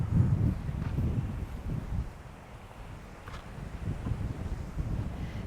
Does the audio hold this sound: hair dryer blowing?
no